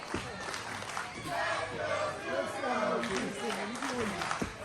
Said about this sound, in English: You can hear the crowd trying to get behind Ryan Zukko